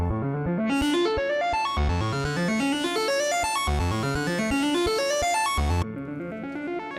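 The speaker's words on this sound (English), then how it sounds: "what you're hearing right now is just Hydrasynth" A Hydrasynth synthesizer plays a bright, rapidly rising arpeggio that repeats in cycles, with distinct stepped notes and a thumping low pulse underneath, loud and alone.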